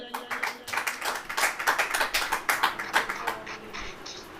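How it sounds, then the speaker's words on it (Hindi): A church congregation claps in a brisk, rhythmic run of handclaps that builds and then thins out, fairly close, with some voices faintly mixed in. "ताली बजाइए।"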